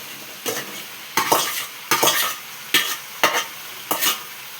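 Okra pieces and tomato cooking in a pan, heard as six sharp bursts of stirring and sizzling scrapes spaced about every second, with a low frying hiss between them and no voices.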